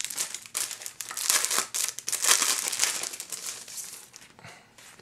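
Plastic packet of Nacon Revolution Pro controller stickers crinkling and crumpling as it is handled, steady rustling bursts up close with no talk.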